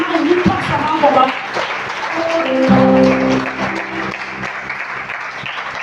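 A church audience applauding a preacher and his wife, a loud, dense wash of clapping that swells and then fades, with a voice speaking over it.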